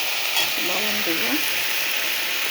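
Leafy greens frying in ghee in a pan, a steady close sizzle running throughout with a brief stirring scrape partway, and a voice speaking faintly underneath.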